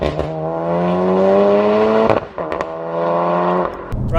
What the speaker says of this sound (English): Sounds totally different to any other Golf R I've been in.